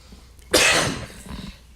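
A single sharp cough, close and fairly loud, followed by a brief raspy breath.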